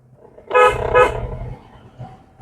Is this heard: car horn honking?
yes